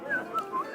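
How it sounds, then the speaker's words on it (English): A person whistles a short, lilting run of bright notes in a quiet room, brief and fairly close, with no other sounds. "whistling."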